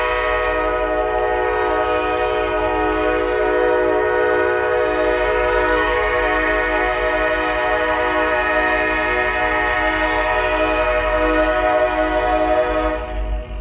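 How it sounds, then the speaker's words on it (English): A train horn blares loudly and continuously, rich and sustained, over the deep rumble of a passing train nearby. "Bear with me, we got a train,"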